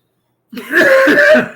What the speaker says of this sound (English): I've had coughing fits